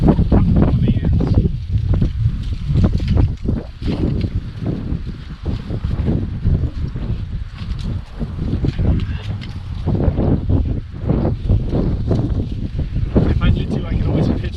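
Strong wind gusting at a hammock campsite in a state forest, loud buffeting roar and rushing across the microphone, continuous with surging peaks throughout.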